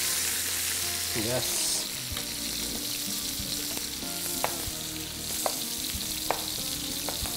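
Chicken frying in a pan for a creamy Tuscan dish makes a steady loud sizzle with occasional stirring clicks, and a voice briefly speaks over it.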